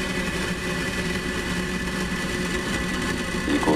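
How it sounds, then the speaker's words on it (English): Falcon 9 rocket engines roar at liftoff on the USSF-62 launch from California, a steady dense rumble that swells slightly toward the end. "ignition. And a lift off Falcon 9"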